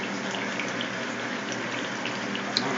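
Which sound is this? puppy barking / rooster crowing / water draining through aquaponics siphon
water draining through aquaponics siphon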